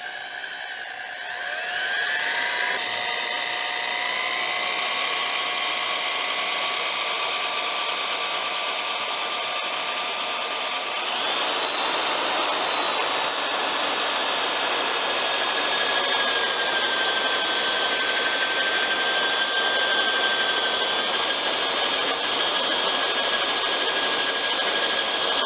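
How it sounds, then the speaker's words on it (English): An electric drill runs steadily in reverse while sanding a wooden platter on a lathe, a continuous whirring drone with shifting whine tones that changes pitch around the middle and keeps going without a break, close and loud. "So I reverse my drill."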